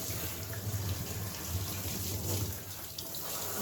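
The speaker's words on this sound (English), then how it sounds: "waiting for the water to fill up" A tap runs steadily into a dog-washing tub, filling it for a field spaniel's bath; the close, even gush of water holds without break and no one speaks.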